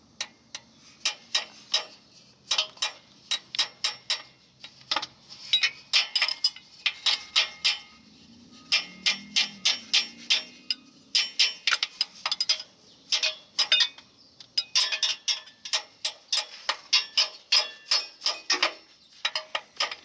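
Repeated hard metallic taps on the starter solenoid of a 2006 Jeep that won't start, struck in quick bursts of sharp clicks and knocks, close and loud, with short pauses between clusters and no talking.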